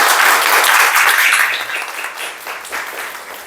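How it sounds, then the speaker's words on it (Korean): Congregation applause fills a church during a Korean worship service, a dense, even wash of clapping that is loud at first and slowly thins and fades over a few seconds. "박수 주세요."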